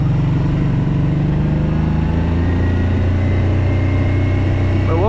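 A Kawasaki Brute Force 750 ATV runs along steadily, its engine droning loud and close at an even pitch. The machine is limping home on a flat tire with a damaged front steering arm.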